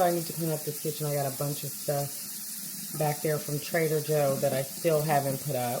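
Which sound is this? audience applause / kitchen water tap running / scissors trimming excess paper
kitchen water tap running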